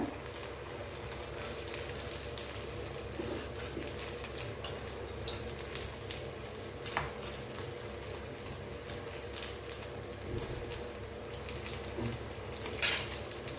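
Beetroot and sago vadas fry in hot oil over a medium flame, giving a steady, soft crackling sizzle with scattered pops, faint and continuous with no voices.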